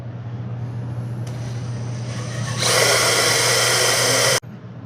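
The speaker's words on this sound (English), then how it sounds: "I'll start off by drilling a pilot hole just to get something for the bit to center on." A power drill bores a pilot hole in metal while building frame dollies, a steady close whirring motor that rises into a loud, harsh grinding whine as the bit bites, then cuts off abruptly.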